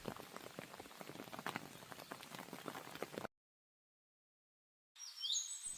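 Rain falling outside a cave in a cartoon, a steady patter of drops that cuts out abruptly, then returns more faintly after a brief silence.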